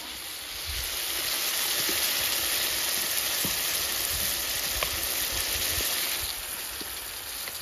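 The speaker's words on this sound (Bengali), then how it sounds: "আম তেলে ভেজে নিয়েছি, এখন এই বাটা মশলা দিয়ে দেবো" Ground spice paste of dried chilli and cumin sizzles steadily in hot oil where raw mango was fried, for a sour mango curry with snakehead fish; a dense, continuous close crackle runs throughout with no talk.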